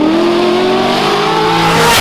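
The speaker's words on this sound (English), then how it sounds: "This thing does not sound like your average Corvette." A loud, fully built modified Corvette engine revving hard, its pitch climbing steadily in a smooth, aggressive Ferrari-like wail, close and continuous with no talking.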